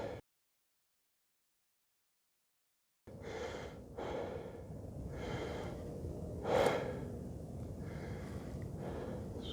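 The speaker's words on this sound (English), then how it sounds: "Get my breathing back under control." Heavy, ragged breathing of a cyclist recovering after a hill climb on Weston Road, close gasps and exhalations in an uneven rhythm, one sharper snort-like breath standing out, after a brief silent gap.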